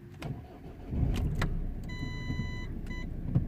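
A Mazda 3 with engine, ABS and ESP fault lights idles just after starting, its steady low engine rumble swelling and holding, while a short run of clear electronic chime tones sounds partway through.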